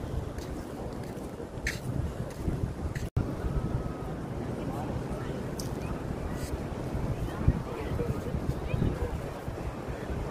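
Steady wind at Manhattan Beach roars and buffets across the microphone in a continuous low rumble, with faint open-air surf noise underneath.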